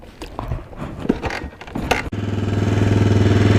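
Suzuki DR-Z 125L motorcycle engine catching after choke use, firing up at once into a steady, close, rising idle that grows louder and holds; someone talks briefly before it starts.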